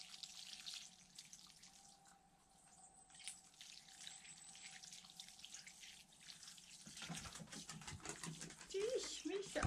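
Tap water running at a cottage on an autumn weekend, a rushing splash that starts abruptly toward the end and grows louder, following a quieter stretch with a dog nearby and some talk.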